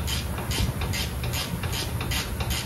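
A ratchet rapidly clicks while tightening a ball joint nut on a Chevy Malibu control arm, a fast, even run of close mechanical ticks lasting a few seconds with no talking.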